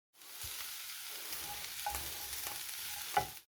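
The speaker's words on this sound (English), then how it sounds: "we're frying the gammon and the mushrooms together without any oil" Steady crackling sizzle of gammon and mushrooms frying together in a pan without oil, continuous and close, with a couple of faint clicks.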